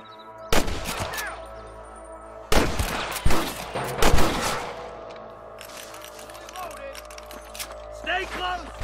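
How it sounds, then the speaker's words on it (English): Gunfire in Red Dead Redemption: loud bursts of rapid rifle and pistol shots in clusters, followed by quieter scattered shots, with voices shouting over the fight. "Stop shooting at me!"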